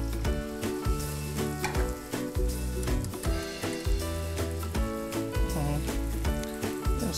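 Egg and pastirma frying together in a pan, giving a steady close sizzle with rhythmic stirring pulses, under prominent tonal background music throughout, with no talking.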